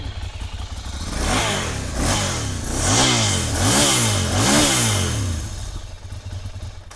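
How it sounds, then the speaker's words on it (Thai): A motorcycle on its stock exhaust is revved hard about four times in a row, each rev rising and falling, loud and close, then it settles back to a rough idle. "โอ้โหสดเว้ย หนักแน่น เสียงเครื่องนี่กินขาด"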